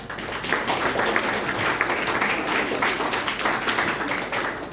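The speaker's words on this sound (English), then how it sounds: "Can you clap?" Audience at an entrepreneurship workshop clapping together, a steady dense patter of many hands held for several seconds at moderate level with no pause.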